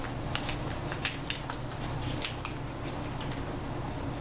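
A knife slicing through a stick of butter in a home kitchen, a few soft, brief close cuts and taps over a steady background hum, with no talking.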